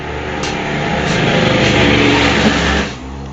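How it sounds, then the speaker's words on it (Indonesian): A motorbike roars past as an audiobook sound effect. The loud engine swells, holds, then drops away quickly near the end. "Wah, motor tadi lagi."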